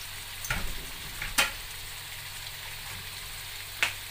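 Carrots frying in a pan while cooking Valenciana, a soft steady sizzle with a few brief stirring scrapes, close and moderately quiet.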